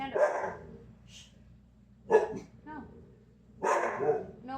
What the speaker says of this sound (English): My dogs are barking, so I guess I can see what they're barking at